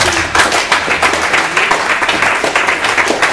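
An audience at a Microsoft event at CERCO in Abidjan applauds, producing a dense, even clapping that carries on steadily throughout.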